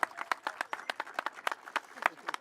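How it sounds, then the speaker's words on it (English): Sparse outdoor applause from a small crowd at a trail ribbon-cutting ceremony, with distinct individual claps at moderate, fairly faint level and no one talking over it. "Please give them a round of applause."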